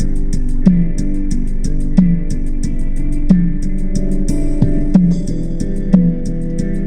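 Steady music with a regular beat and sustained harmonic tones, played at moderate loudness through a car audio preamp with its controls set to center, giving a slightly processed, amplified character.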